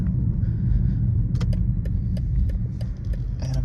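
A BMW 330i G20 hums along from inside the cabin, a steady low engine and exhaust drone with road rumble and a few small rattles, continuous and moderately loud.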